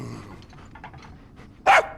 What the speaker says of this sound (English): Oh, you're scared of dogs.